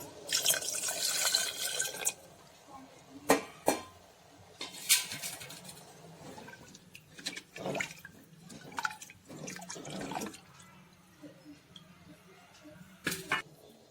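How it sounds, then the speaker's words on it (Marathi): A short rush of water poured into a clay pot of pigeon pea dal, followed by scattered drips and occasional clinks of kitchenware. "थोडंसं पाणी टाकणार आहे वरून."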